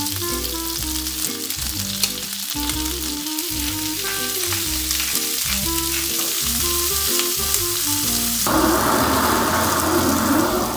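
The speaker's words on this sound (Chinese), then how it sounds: "看这鸡腿煎的" Chicken legs and vegetables such as peppers frying in a pan, a loud, dense sizzle with stirring and clatter throughout, swelling louder near the end.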